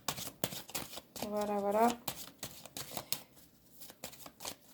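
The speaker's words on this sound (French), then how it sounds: "Attention, je bats les cartes." Tarot de Marseille cards are shuffled in quick, soft riffling bursts, faint and close, with someone speaking briefly partway through.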